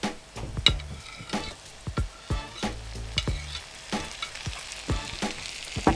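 Tomatoes frying in a pan on high heat, a busy close sizzle with repeated sharp stirring clatters from a utensil scraping the pan, no voices.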